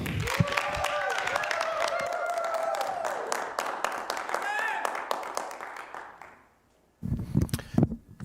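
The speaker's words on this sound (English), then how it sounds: "give him a round of applause" Audience applause at a Christmas comedy show fills most of the clip, a steady patter of clapping with voices and cheering mixed in, then a brief hush before clapping picks up again.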